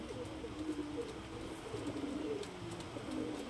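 A Pagla beater pigeon gives its standing call, low throaty coos repeating over a constant rushing background hiss, close by with no talking.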